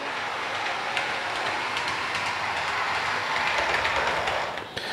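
A PIKO model locomotive rolls steadily along its track with a continuous whirring rumble and light clicking, close by, easing off near the end.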